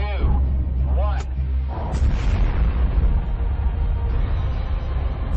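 Student-built rocket launching into space: a loud sustained low rumbling roar with crackling bursts, close and continuous, under faint voices at the start.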